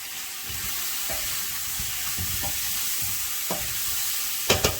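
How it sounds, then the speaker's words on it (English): Steady frying sizzle fills the background, with occasional stirring clatters and a brighter crackle near the end. "That sizzling you hear in the background, family, got my onions and garlic"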